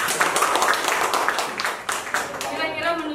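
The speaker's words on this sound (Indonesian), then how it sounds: "Tepuk tangan." An audience claps in a quick, lively burst during a cooperative membership gathering, with a voice speaking over the claps near the end.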